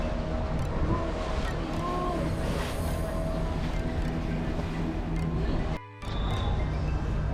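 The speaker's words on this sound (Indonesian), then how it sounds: "duduk di atas perahu menjadi kesempatan untuk bersantai dan menikmati angin" A small boat carries passengers across the water at a zoo, with steady engine drone, wash of water and buffeting wind on the microphone throughout, and a brief dropout near the end.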